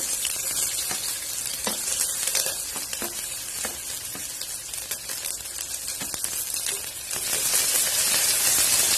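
Onions and curry leaves frying in hot oil with spices for a coconut-milk chicken gravy, a steady broadband sizzle with occasional stirring taps and a louder surge near the end, no voices.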